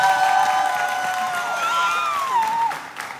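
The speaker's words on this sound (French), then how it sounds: "faites du bruit les gars, applaudissez" A crowd at a fan meet-and-greet in Paris cheers and claps, with high shouts and whoops from many voices over a bed of applause, fading toward the end.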